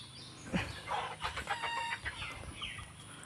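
Chickens in a small farm give soft, repeated clucks and calls, faint and somewhat distant, over a low background hum with no talk.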